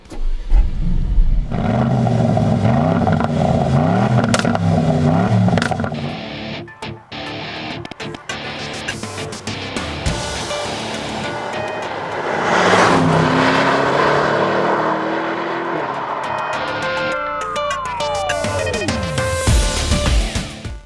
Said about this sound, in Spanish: lo que más me interesa es el sonido del V8 que respira bajo el capó, así que vamos a arrancarlo y nos ponemos en marcha